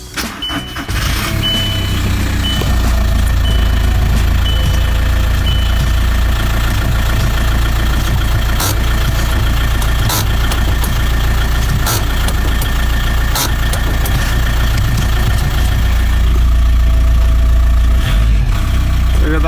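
A 2005 Volkswagen Golf Mk5 engine idles steadily and loudly throughout, a constant low rumble with a few faint clicks and no talk.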